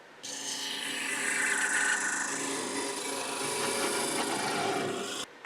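A wood lathe cuts a tenon in palo santo wood, making a continuous close scraping hiss from the tool against the spinning blank that starts abruptly, holds steady for about five seconds, and stops sharply.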